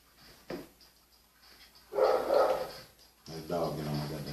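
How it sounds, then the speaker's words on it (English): A dog barks a few times, brief yelps and a whimpering bark rising over a quiet indoor room, with people talking nearby. "That dog get on my goddamn nerve."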